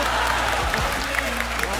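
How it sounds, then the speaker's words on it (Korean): Studio audience applause at a Korean comedy stage show, a brief burst of clapping mixed with crowd noise and a low hum. "이 입에다 박수를!"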